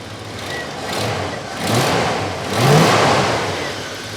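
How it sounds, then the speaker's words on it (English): A 1972 Ford F250 4x4 engine runs with a small exhaust manifold leak, idling close and loud with a rough puffing exhaust note that swells in a few mild revs. "It's definitely got a little bit of a manifold leak somewhere, or maybe the donut on the exhaust is leaking, but runs smooth."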